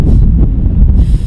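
Outdoor wind buffets a microphone outside a gym, a loud continuous low rumble with gusty fluctuations and no voices over it.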